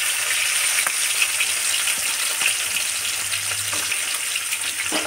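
Curry leaves, green chillies and onions fry in hot oil with cumin, giving a steady close sizzle and crackle with a few faint stirring knocks.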